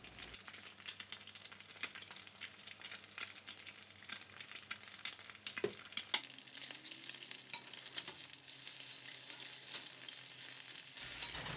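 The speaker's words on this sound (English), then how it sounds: "So you're gonna fry these up just a little bit." Dates and eggs frying in a pan, giving a soft, continuous sizzle with scattered crackles and light rattling from a utensil, fairly quiet and steady throughout.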